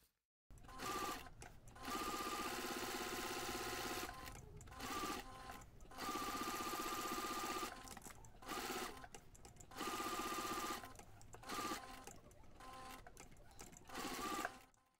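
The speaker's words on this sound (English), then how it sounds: "you can take this to the machine and quilt those two pieces together" A sewing machine quilts two fabric pieces together for a heart-shaped coaster, its rapid mechanical stitching running in close, loud bursts separated by short pauses.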